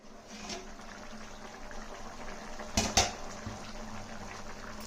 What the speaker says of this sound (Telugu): ఇంక ఇప్పుడు దీన్ని మూత పెట్టి సెగ పెద్దగా పెట్టి ఉడికిద్దాము